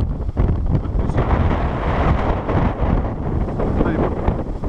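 Strong wind buffets the microphone on a lakeshore during eel fishing, a loud continuous roar with gusty surges throughout the clip.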